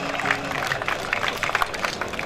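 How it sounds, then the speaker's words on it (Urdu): Applause from the crowd at a kabaddi prize-distribution ceremony honours two dignitaries, dense steady clapping holding at a moderate level throughout without pause. "دونوں معززین کے لیے بہت زیادہ تالیاں"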